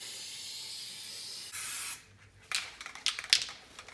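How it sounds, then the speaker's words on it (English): A steady hiss of aerosol sealant sprayed onto a trailer camper window runs for about half a second, then shorter bursts of spraying and light rustling follow, close by. "I'm spraying right onto the window and not taping anything off"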